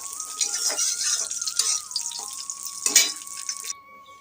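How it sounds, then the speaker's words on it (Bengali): Raisins frying in oil in a wok make a bright, steady sizzle with stirring scrapes and a louder burst near the end before cutting off abruptly, with a thin tone humming beneath. "আমি কড়াতে সাদা তেলই এ দেখো কিশমিশগুলো একটু ভেজে নেবো"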